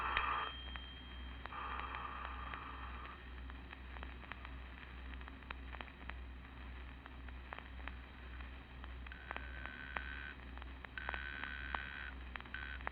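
A telephone dialed in an old-time radio mystery drama, a series of clicking pulses and faint electronic tones over a constant low hum and hiss, with no talking.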